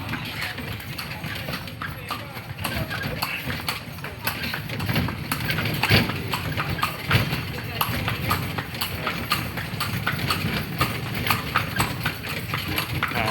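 Horse hooves clip-clopping steadily on a street close by, a continuous rhythmic patter amid crowd noise and people chatting in the background.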